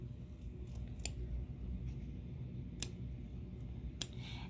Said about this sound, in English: we're going to trim the fabric around him.